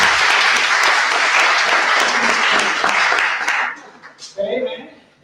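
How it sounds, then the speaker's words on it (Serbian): An audience at an evening talk applauds a translator and a guest doctor with a loud, dense burst of clapping lasting several seconds. It then thins out and fades as a voice begins to speak. "Možemo ih pozdraviti jednom aplauzom."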